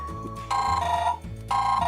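A Yu Yuphoria smartphone rings with an incoming call, its ringtone playing a bright, repeating melodic pattern in loud bursts with short dips between phrases, close to the phone and without speech.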